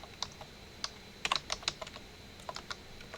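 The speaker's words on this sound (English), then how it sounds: "I just start typing." Keystrokes on a computer keyboard while entering data into a spreadsheet, a few scattered clicks and then a quick burst of taps, close and fairly quiet with no talking.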